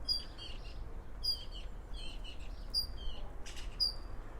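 Repeated bird calls in a garden, short high chirps recurring every second or so at moderate distance over a low steady background hum.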